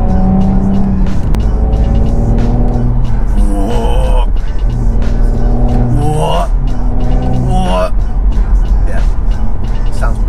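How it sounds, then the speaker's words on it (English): An Audi S4 B9 drives by loudly with its exhaust, revving and accelerating in several bursts with rising engine sweeps and sharp crackle-like transients, while people talk over it throughout. "The way the exhaust just cracks and pops is brilliant."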